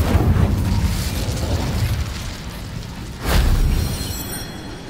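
Incendio fire spell cast in Hogwarts Legacy: a steady rumbling whoosh of flame that swells into a louder, fuller burst near the end, with no talking.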